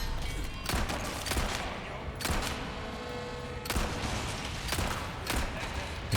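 Gunfire in the video game Resident Evil 4, with several loud, sharp shots spaced irregularly apart, each followed by a brief ringing decay.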